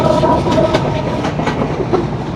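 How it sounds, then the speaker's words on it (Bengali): The Chitra Express passenger train thunders past close by near Jessore Junction, Bangladesh, a loud continuous rumble broken by the rhythmic clatter of wheels over rail joints. "লাল সবুজের চিত্রা এক্সপ্রেস ট্রেন"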